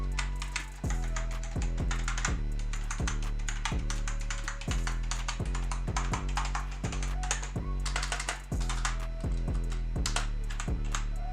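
Steady typing on a Gamdias Hermes keyboard, close up, with clustered key clicks and brief pauses over a low background hum.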